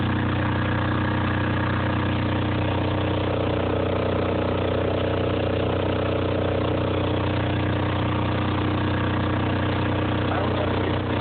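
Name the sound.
Caterpillar diesel portable standby generator starting and running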